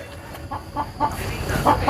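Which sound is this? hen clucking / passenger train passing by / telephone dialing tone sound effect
hen clucking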